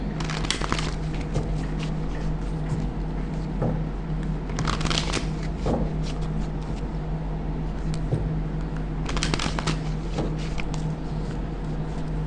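Tarot cards being shuffled in a steady, close papery riffle that runs throughout, with a few louder flurries of card noise and no talking.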